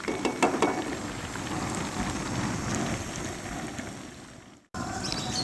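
Chicken frying in hot oil in a home kitchen makes a dense, steady crackling sizzle close by, with a few sharper pops at the start and a brief cut to silence near the end.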